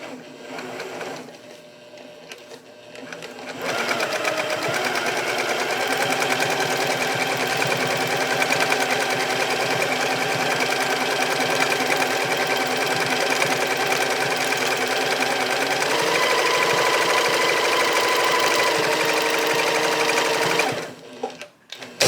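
A sewing machine stitches a practice piece for a quilt. After a quiet start with small clicks, its motor runs in a loud, steady, fast-pulsing whir for about fifteen seconds, then stops abruptly.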